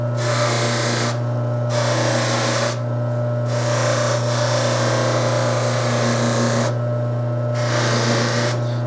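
A buffing wheel polishes messy solder off a brass herald trumpet, running as a loud steady motor whine with a strong hum, the grinding texture dropping out briefly several times as the metal is lifted away.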